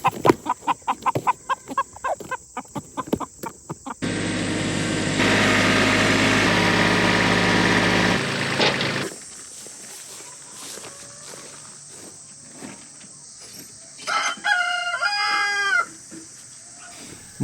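Backyard chickens and roosters in a coop cluck and call in scattered bursts, with a rooster crowing near the end. Footsteps and a stretch of loud engine-like rumble break in partway through.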